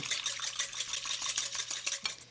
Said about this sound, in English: The wet ingredients start with egg whites and then whisk them to add some volume.